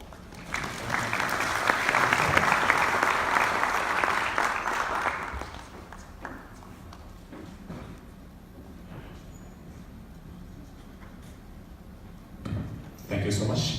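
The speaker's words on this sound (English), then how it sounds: "Another round of applause for him, please." Applause from the audience at an international symposium on catastrophe risk management, a dense burst of clapping for about five seconds that fades out, followed by quieter room noise and a brief spoken voice.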